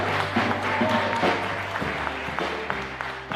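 Graduates applauding at a primary school leaving exercise, a moderate burst of clapping from a crowd that thins out toward the end.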